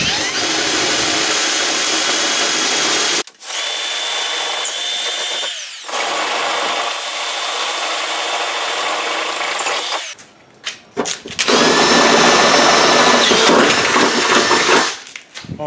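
A power drill bores holes into the body of a Nissan Navara D22 for a snorkel installation, a loud continuous whirring grind that stops and restarts several times with short pauses and bursts of rasping bit noise.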